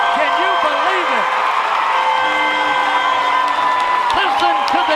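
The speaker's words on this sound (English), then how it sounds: "Listen to the Garaway crowd" A crowd at a Garaway girls' high school softball state semifinal cheers and whoops after strike three, a sustained roar with shouts and claps, while a commentator talks over it.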